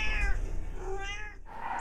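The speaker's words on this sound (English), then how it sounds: "this week we introduce you to a very unusual cat" A male tortoiseshell cat meows in a close, drawn-out call, then gives a second shorter meow toward the end, with no voices.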